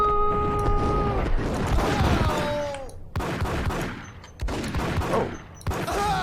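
Enemy gunfire in Max Payne on PC crackles in sharp bursts of close shots between pauses, with a held musical tone at the start and mechanical clanks in between.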